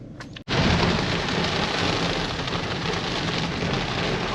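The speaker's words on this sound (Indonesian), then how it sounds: "hujan badai teman-teman, hujannya deras banget" Heavy rainstorm pounding an old Toyota Camry on a road trip, a loud dense steady roar of rain that starts abruptly after a brief lull and carries on without pause.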